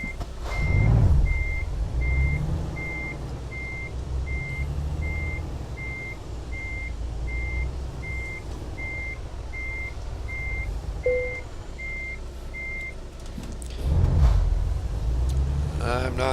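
Truck reversing alarm in Euro Truck Simulator 2, a steady evenly spaced beep repeating for most of the stretch over a low diesel engine rumble, with someone talking at times.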